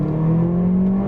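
A Mercedes GLA 45 AMG engine revs up, a loud close mechanical drone whose pitch climbs and holds steady over about a second, heard alone without talk.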